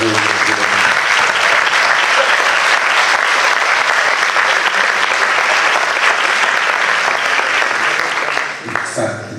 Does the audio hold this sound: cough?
no